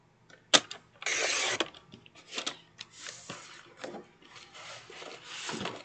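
Paper is cut into pieces for a craft project with close, quiet scissor snips and rasping strokes, coming in irregular bursts with short pauses between them.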